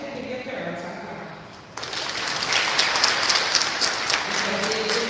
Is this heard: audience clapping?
yes